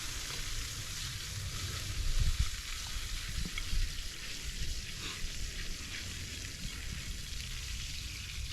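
Steak and vegetables sizzle steadily in a hot pan, a continuous close frying hiss with small pops and a brief louder spurt of crackling partway through, no voices present.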